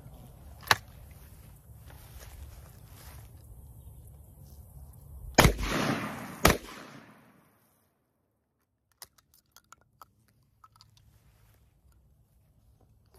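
Two loud, sharp shotgun blasts from an 1887 lever-action and a double-barrel coach gun ring out outdoors over a low background rumble, followed by near-silence with small metallic clicks of handling.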